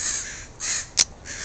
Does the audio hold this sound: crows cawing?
yes